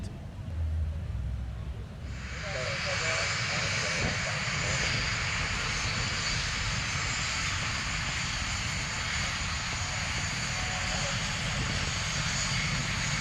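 An aircraft engine roars as a steady, loud drone that swells after the first couple of seconds and then holds constant throughout.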